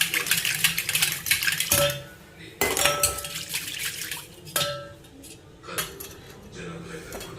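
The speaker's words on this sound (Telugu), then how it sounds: "కొద్ది వాటర్ పోసుకొని ఇట్లా మజ్జిగలా తిప్పాలి." A spoon stirs water into batter in a metal vessel, producing repeated scraping swirls and sharp clinks against the sides in irregular bursts, close and fairly loud.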